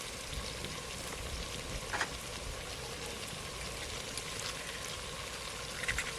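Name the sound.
spices frying in a pan after adding coriander-cumin powder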